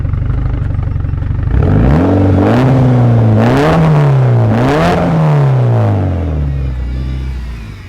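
A straight-piped Evo wagon engine fires up and revs on its first drive, loud and close, with rising and falling engine pitch through several throttle blips and a steady raspy drone.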